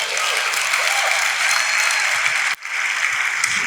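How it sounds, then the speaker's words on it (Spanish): A church congregation breaks into loud, dense applause during a sermon by Pastor Alberto Delgado, the clapping briefly cutting out before picking up again. "Da un aplauso aquí."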